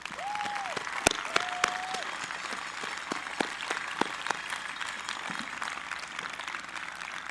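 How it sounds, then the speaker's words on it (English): Graduation audience applauding the Melrose High School Class of 2020, fairly faint and distant clapping under a hiss of background noise, with scattered sharp pops and a couple of brief whistle-like tones. "Let's have a big round of applause for the Class of 2020."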